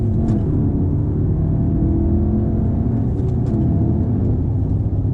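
A Volkswagen Golf R accelerating hard through a turn, heard as a steady, loud, low engine rumble and road noise from inside the car, with no talk.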